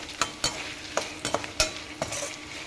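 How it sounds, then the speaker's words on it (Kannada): Mandakki puffed rice with roasted gram, peanuts, turmeric and salt being stirred and fried in a pan, with a steady sizzle broken by about seven sharp scraping strokes of a spoon at an uneven rhythm, close and clear with no talking. "ಫ್ರೈ ಮಾಡ್ಕೊಳ್ಳಿ ಹೀಗೆ"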